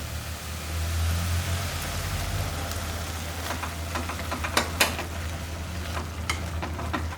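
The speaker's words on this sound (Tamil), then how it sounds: "இப்போ இந்த கேரட் முழுகிற அளவுக்கு நீங்கள் இந்த பாலை ஊற்றிக்கிங்க." Milk pours and bubbles steadily in a pan over carrots for carrot halwa, with a faint sizzle and a few light clinks close by.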